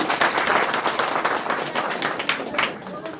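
Wedding guests applauding at a church marriage ceremony in Nepal, a thick burst of clapping from a crowd, fairly close, with voices mixed in.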